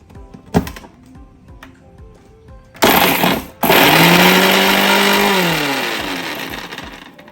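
A kitchen mixer grinder whirs loudly through onion, coriander, salt and water, starting with a sharp burst, pausing briefly, then running steadily as its pitch slowly winds down, preceded by a few quiet knocks.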